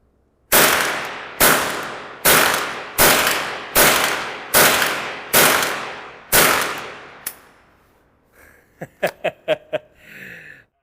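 A Remington Nylon 66 rifle fires seven loud, evenly spaced shots in quick succession, each with a short ringing decay, followed by a quick burst of laughter.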